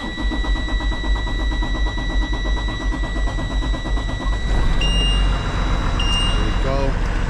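A diesel engine is cranked and turns over after fuel is pumped, a steady mechanical churn that rises into a louder rumble partway through, with a faint whine and no voices over it.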